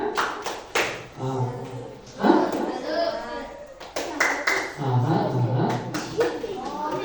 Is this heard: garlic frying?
no